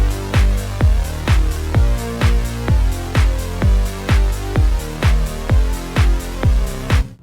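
Simple synth bass line from the Diva synth in FL Studio, a steady pulse of punchy low notes repeating about twice per second, loud and alone without any voice.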